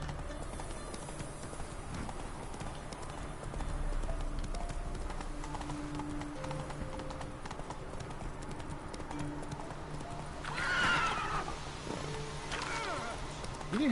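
Horse hooves clip-clopping steadily in The Witcher 3 game, a continuous trotting rhythm under background game ambience and music, with a short brighter burst near the end that may be a neigh.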